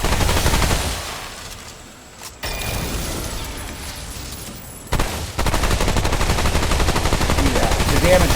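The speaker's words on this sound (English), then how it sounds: "Chicago typewriter does some pretty good work on its own. It's a very, very effective weapon." A Chicago Typewriter gun in the video game Remnant 2 fires in loud, dense automatic bursts, a shorter volley early on and then a sustained stream of rapid shots toward the end, with brief pauses between them.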